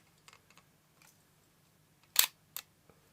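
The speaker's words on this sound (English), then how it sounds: "The shutter is really quiet on it." Two sharp mechanical clicks close together, the quiet shutter of a Ricoh 500G 35mm rangefinder film camera firing, with faint small ticks and handling noises around them in a hushed room.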